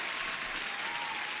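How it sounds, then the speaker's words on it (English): Applause during a day-trading futures livestream, a steady dense wash of clapping held evenly at one level for its whole short length, with no voices over it. "Huge applause to Methodical Man."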